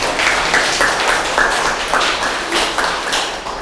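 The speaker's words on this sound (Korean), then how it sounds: "박수 부탁드립니다." An audience at a Friday science lecture in Pohang applauds, a loud, busy patter of many hands with slight surges, continuing evenly across the whole stretch.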